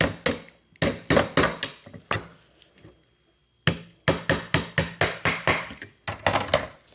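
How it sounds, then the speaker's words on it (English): Sharp, close metallic taps of a brass hammer on a brass drift rod, driving out the sight of a 1901 BSA Long Lee Enfield Mk 1* rifle. The taps come in quick bursts of several strikes, separated by short pauses. "just very gently, just tap it with a brass hammer"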